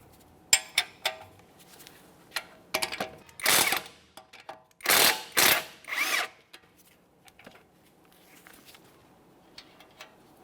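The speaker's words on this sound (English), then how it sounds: "We'll continue on to loosening the first bolt, leave it in there, fully remove the second bolt." Power tool driving out 18mm strut mounting bolts on a 2017-2024 GMC Acadia front suspension, with short bursts of whirring and ratcheting followed by longer sustained runs, close and loud against quiet pauses.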